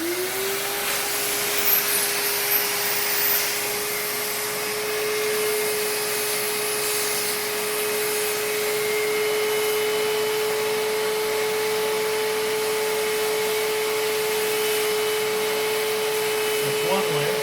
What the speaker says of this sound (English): Then I'm going to turn on this vacuum.